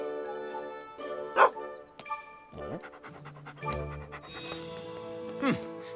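A cartoon dog pants and barks in short bursts, layered over bright music and sound effects in an animated children's firefighter series, with brief voices mixed in.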